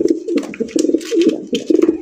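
Racer pigeons coo in soft, throaty bursts that repeat in quick succession, close by and overlapping with some rustling.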